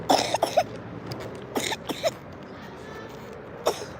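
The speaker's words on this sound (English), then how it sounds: "I still don't like that cough that she got in her." Several short, harsh coughs in a scattered series, fairly close and moderately loud, with quiet stretches between them and no speech.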